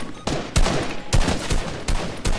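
Bursts of gunfire in the video game Fortnite, about five sharp loud shots or short volleys spaced irregularly over a couple of seconds, with no talking.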